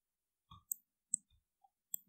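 A few sharp, quiet mouse clicks, close and isolated, in a silent room.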